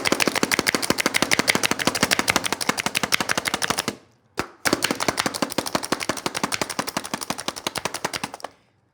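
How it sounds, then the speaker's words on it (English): An onion is chopped with a knife in a rapid, continuous run of sharp blade strikes on a board. The chopping pauses briefly midway, then resumes at the same fast pace, close and loud, with no speech. "So I'm gonna chop up the onion."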